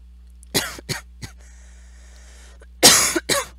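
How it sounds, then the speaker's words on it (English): A man coughs several times in a row at close range, with a few sharp bursts, a pause, then a louder double cough, and no talk over it. "got a bit of a cough there"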